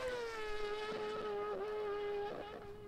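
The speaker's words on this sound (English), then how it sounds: "that sounds like a V8 F1 car" Rally car engine with a high, screaming V8 note like a Formula One car, holding a steady strong tone with brief dips as it shifts or lifts over about three seconds, loud and continuous with no talk.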